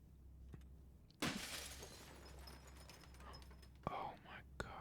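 Window glass shatters in the horror video game Fears to Fathom Home Alone, a sudden loud crash with a ringing scatter of shards, preceded by quiet ambience and followed by faint sharp knocks.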